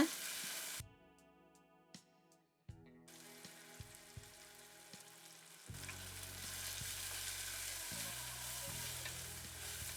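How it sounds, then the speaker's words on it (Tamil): Tomatoes and onions sizzle and fry in a clay pot for fish curry, a steady hissing crackle with occasional stirring scrapes, alone without voices. "தக்காளி வேகிற வரைக்கும் அதையும் நல்லா வதக்கிக்கோங்க"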